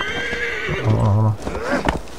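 A horse in the video game Assassin's Creed Valhalla whinnies loudly, a long shaky neigh that rises and falls, followed by a snort and a few softer hoof or breath sounds.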